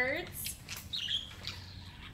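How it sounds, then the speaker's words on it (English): Budgies, small parakeets, in an aviary flock of over eighty give a few short, faint chirps and squawks against quiet background noise, with light talking. "small birds, which small birds are actually categorized under parakeets. And here they are. So we have over 80 of these tiny birds."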